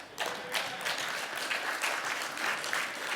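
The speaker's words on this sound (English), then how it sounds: "Clap for her, she's in the house." A conference audience applauds a Rotarian being welcomed, steady crowd clapping heard from a distance at moderate volume and sustained throughout.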